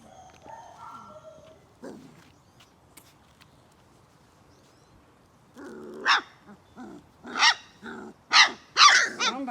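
Puppies bark and growl, starting as faint stray sounds and building into a run of loud, close, sharp barks spaced about half a second apart.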